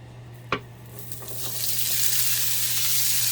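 Beans sizzle steadily in a hot pan, a sharp clack near the start, then the frying hiss swells and holds loud and continuous.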